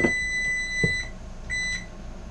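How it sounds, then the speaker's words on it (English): A kitchen timer goes off with a couple of sharp, high beeps in short bursts, while soft kitchen clatter and handling noises are heard nearby. "Oh, timer went off."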